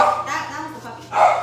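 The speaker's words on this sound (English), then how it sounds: "Who's barking? Can you see who's barking?" A dog barks at a rescue house near the Texas–Mexico border, a few sharp yips close by, mixed with a person talking.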